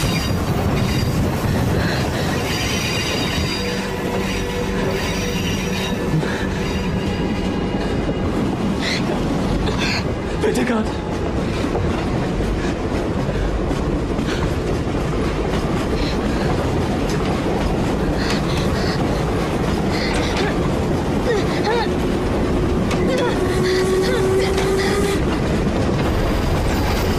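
A train runs steadily along the rails for the whole stretch, loud and close, with a continuous rumble, rhythmic clatter of the wagons and a brief drawn-out wheel squeal near the end.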